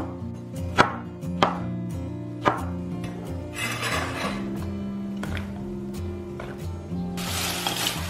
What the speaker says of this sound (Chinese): 然后改刀切小块